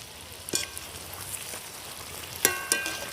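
Palm fruit fritters (tal bora) frying in oil while being stirred, a continuous close bubbling sizzle punctuated by a few sharp clinks of the spoon against the pan.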